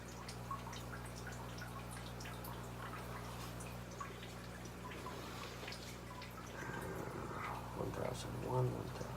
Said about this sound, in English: I'm just trying to get my drips to about that 1 to 2 drips a second now